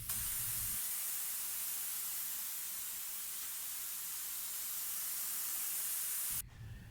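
Clear coat sprayed onto wood panels during a sailboat interior restoration: one steady, close aerosol hiss lasting about six seconds, then stopping abruptly.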